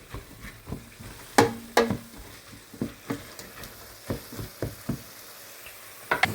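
Ingredients for a pumpkin noodle dish sauté in a pan, with a soft, low sizzle punctuated by many short, irregular clicks and knocks of a spoon stirring against the pan.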